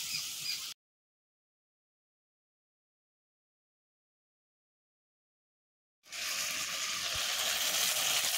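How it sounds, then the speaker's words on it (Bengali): Ground spices (coriander and cumin) sizzling hard in a hot pan after a splash of water, a dense hiss and crackle for a moment, then a long silent gap before a steady loud sizzle returns. "জল দিলাম একটুখানি মশলাটা ভালোভাবে ভাজা হবার জন্য"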